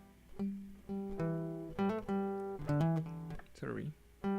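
Electric guitar solo from a song, a run of clearly picked single notes in an uneven rhythm, played close and alone, with a brief vocal sound near the end.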